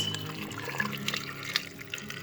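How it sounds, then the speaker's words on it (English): Water poured from a tap-like stream onto coconut pieces in a blender jar while making coconut rice, a steady close splashing trickle with small drips, no talking. "I'm going to add water to the coconut."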